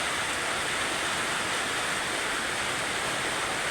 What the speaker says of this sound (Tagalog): Grabe yung tulo ng ulan.